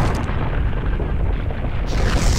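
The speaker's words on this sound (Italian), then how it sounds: "Esplosione di questo tipo e Asura che cade dal cielo." A heavy explosion rumbles in the video game Asura's Wrath, a dense, loud roar that fills the clip without a break and keeps going with no clear decay, with no talk.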